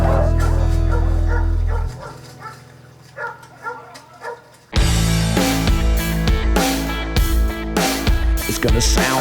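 Several deer hounds bark and yelp loudly and continuously, close by, after a brief quieter stretch of whimpering.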